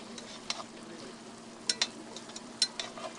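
Leaves cooking in a pan in a community garden setting, a faint steady sizzle with a few sharp pops and clinks of stirring, close but quiet.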